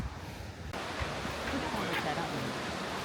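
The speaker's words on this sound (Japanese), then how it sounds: "滝の音が聞こえてきました" Steady broadband roar of a waterfall near Shirogane Onsen in Biei, Hokkaido, heard from a bridge, a continuous rushing wash that swells slightly after the first second and holds loud and even throughout.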